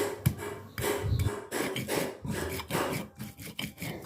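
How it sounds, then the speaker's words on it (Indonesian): Stone mortar grinding spices with garlic and shallots for Indonesian sayur asem, a steady run of close scraping, rubbing strokes with occasional knocks of the pestle and no talk. "Lanjut diulek-ulek aja sampai bumbunya benar-benar halus"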